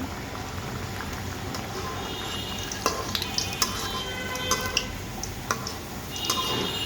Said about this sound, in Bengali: আমি একটু নড়াচড়া করে দিচ্ছি, কারণ পুরিগুলো ফুলে যাবে।